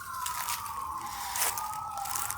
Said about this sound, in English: we have some sirens in the background, messing up the video